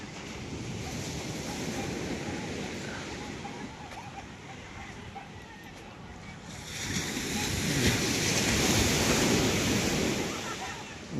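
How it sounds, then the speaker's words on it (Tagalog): Sea waves wash onto the beach at Bukana in a steady broadband roar with wind noise, swelling louder near the end, with no speech. "Ang ganda ng dagat ng Bukana ngayon"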